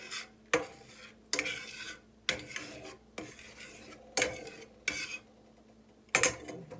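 A utensil stirs thawed frozen eggs scrambling in a pan, giving six or seven distinct scraping strokes at a steady pace, close and quiet with pauses in between and no talk.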